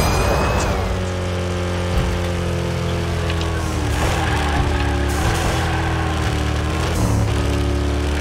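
A toy car engine in Hot Wheels Unleashed holds a steady, loud drone with harmonic tones that dip and rise as it revs during the race.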